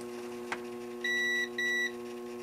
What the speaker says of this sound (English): when you touch those two leads together, you're going to get a beep